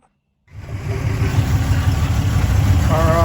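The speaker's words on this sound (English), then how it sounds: "I just started it up and now it idled for a minute and then died." A Holden HZ Kingswood wagon fitted with a reconditioned carburettor starts after a moment of silence and settles into a loud, steady, rough idle with a low rumbling drone.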